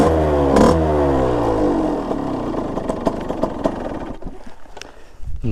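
A 50cc motorbike engine revs hard close by with the choke on, pitch sweeping up and down, then drops to a rattling, uneven idle with sputters.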